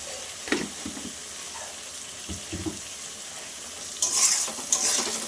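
Masala for a fish roe dish frying and being stirred in a pan, with a steady low sizzle and scattered scraping strokes from a utensil, then a louder burst of hissing sizzle near the end, no voices.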